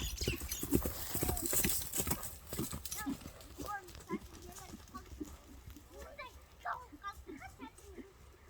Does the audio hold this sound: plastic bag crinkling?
no